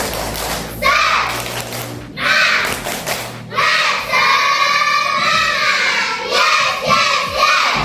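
Classroom of children performing a rhythmic spirit clap, bursts of sharp clapping and thumps in a patterned beat mixed with shouted chanting from the group.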